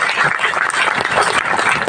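An audience claps at a Gondwana Gondiyan Samaj community gathering in Assam, with dense, steady applause filling the short stretch at close, loud level.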